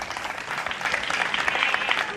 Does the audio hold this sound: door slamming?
no